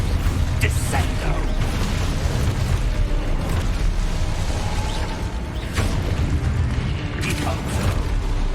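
Spell blasts in Hogwarts Legacy pile up as a continuous loud wash of booms, pops and rumbling crashes, with a voice talking over the combat.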